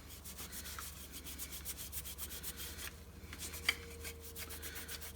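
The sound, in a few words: wiping dust off a Hoover Junior vacuum cleaner lens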